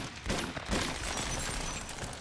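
Gunfire in the video game Uncharted 2: Among Thieves, with two or three muffled shots early on that fade into a dull rumbling wash, moderately loud.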